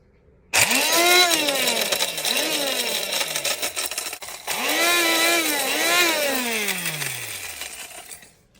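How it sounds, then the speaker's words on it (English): Dried morel mushrooms being ground in an electric spice grinder: two loud bursts of whirring motor, each spinning up and winding down in pitch, with a short pause between them. "You can use a coffee or a spice grinder. Grind them up."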